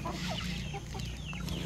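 Free-range hens cluck softly and repeatedly under grapevines on a farm, short chattering calls over a steady low background.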